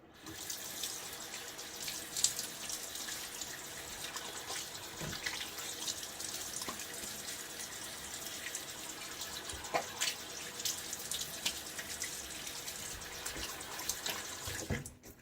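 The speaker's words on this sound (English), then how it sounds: "All right, let's rinse this off." A tap runs steadily while shaving lather is rinsed off a face, continuous splashing water with occasional louder splashes from hands, close by and with no talk.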